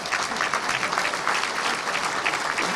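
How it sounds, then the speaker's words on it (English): Audience applause for Gary Adams at a Little Rock Touchdown Club luncheon, a steady wash of many hands clapping at fairly close range, holding an even level throughout with no voices standing out. "Let's give Gary a round of applause."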